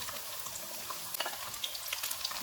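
Okra frying in a cup of hot oil, a soft steady sizzle with scattered small pops and crackles, fairly quiet and close, with no one talking.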